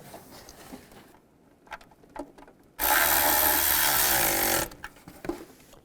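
A power tool runs in a single loud burst of about two seconds, tightening exhaust manifold bolts on a 2002-2009 Chevrolet Trailblazer, framed by quieter clinks and handling noises of work under the vehicle.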